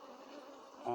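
Honey bees from a varroa-free colony buzz at the hive in a soft, steady drone, close but quiet, with a brief louder bump at the end.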